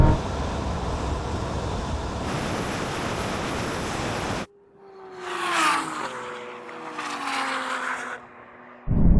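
A Porsche Turbo S, an Audi R8 and a Nissan GT-R run a drag race of roughly 900 to 1,000 horsepower. Loud wind roar gives way to whooshing engine passes with a falling, whining tone.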